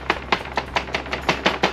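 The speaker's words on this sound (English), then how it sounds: "So we're chopping this up to give a little bit of an extender" Knife chopping shrimp on a cutting board for Maryland-style crab cakes, eight crisp, evenly spaced chops close up with a low hum underneath.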